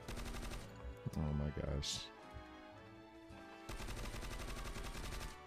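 Gunfire in a first-person shooter video game: rapid automatic bursts crackle loudly, pause briefly for a single sharp shot and an exclamation, then another sustained rattling burst resumes.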